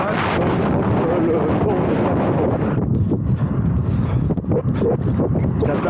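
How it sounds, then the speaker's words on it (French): Wind buffets the microphone of a small action camera worn by a runner at about 12 km/h into a light headwind, a loud, steady broadband rumble filling the clip with no voice. "Il y a un petit peu de vent, là je l'ai de face"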